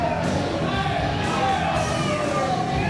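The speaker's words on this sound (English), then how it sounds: "Look at this crowd here at the world famous Nile Theater." A wrestling crowd at the Nile Theater roars and yells in a dense, steady wall of cheering and shouting voices.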